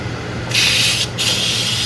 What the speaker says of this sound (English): Fixing to release the steam off of it.